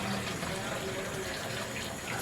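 Water running from a tap to fill a screen printing screen after coating it with emulsion, a steady broadband rush and gush that stays close and even throughout with no pauses.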